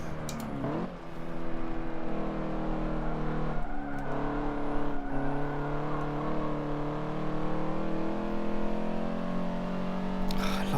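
Hot hatchback in Forza Motorsport 7, a sustained engine drone with rising and falling revs, gear changes and faint tyre and braking noise, loud and continuous throughout.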